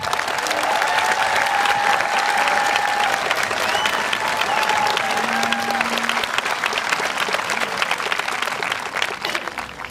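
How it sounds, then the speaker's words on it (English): Sustained audience applause at a high school graduation ceremony honoring the class of 2022, steady dense clapping that fills the hall for the full stretch, with faint voices mixed in. "would you join me in giving these wonderful students a round of applause?"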